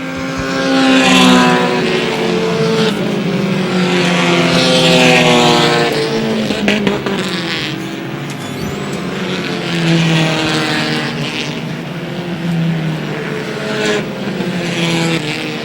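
Race cars roar around an oval track in a close battle for the lead, engines loud and near, rising and falling in long sweeps as the pack passes, with no talking.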